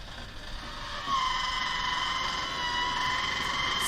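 Ventilation fan running inside a camper van, a steady whooshing hum with a faint whine, close and constant, growing slightly louder after the first second, with no talk over it.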